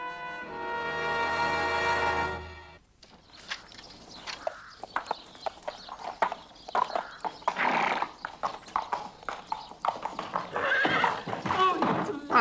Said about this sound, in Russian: Прекрасная лошадь.